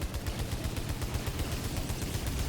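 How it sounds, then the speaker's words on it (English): Full-auto carbine fire in the sci-fi shooter Returnal, a continuous fast rattle of shots with deep thumping low end, loud and steady for the whole stretch, no talking. "now we have the carbine. Full auto."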